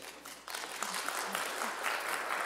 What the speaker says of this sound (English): I'm going to ask you to hold your applause because we'll be clapping all morning